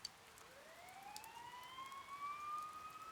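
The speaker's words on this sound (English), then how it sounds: "You hear sirens nearby." Police sirens wailing nearby in the video game Persona 4 Golden, a rising, faint electronic siren tone sweeping upward over a soft rain-like hiss.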